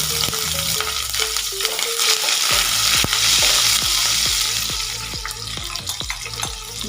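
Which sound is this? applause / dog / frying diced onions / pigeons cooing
frying diced onions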